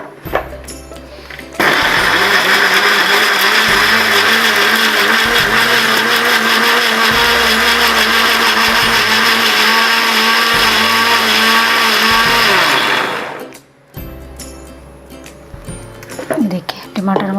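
A mixer grinder grinding tomatoes with whole garam masala runs loud and close for about twelve seconds with a steady high whine, then cuts off abruptly, with quieter background sounds before and after.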